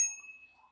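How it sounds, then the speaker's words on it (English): A single bright ding from the bicycle bell on a REVR V5 Pro e-bike, struck once and ringing out briefly before fading, close and clear. "And we also have a bell."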